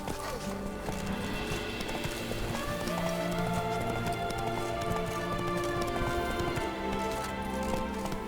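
Horse galloping in The Witcher 3 video game: steady rhythmic hoofbeats with a neigh, set among game music and ambience, with some talking over it.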